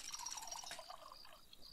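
Water running into a bucket in the game Lakeview Cabin, a soft continuous splashing and trickling fill lasting under two seconds, faint and alone without any talking.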